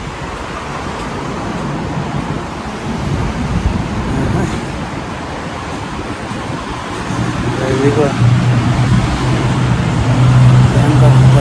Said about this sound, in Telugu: Bangkok traffic.